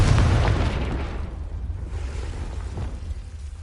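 Confringo fire spell blast in Hogwarts Legacy, a loud booming explosion that bursts at once and then rolls off into a long, fading rumble.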